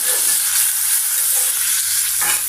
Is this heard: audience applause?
no